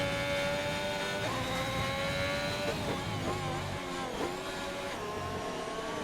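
Onboard race car engine from a racing video game at Bahrain, a high continuous whine with gear shifts and dips in pitch through corners, steady and moderately loud.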